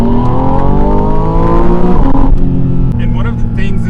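A Porsche 718 Spyder RS motorsport engine revs hard, its rising and falling tones sweeping upward through the gears before dropping as it shifts, loud and close, with someone talking over it.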